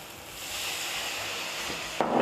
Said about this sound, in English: We bring back to the fire. We deglaze with madere or porto.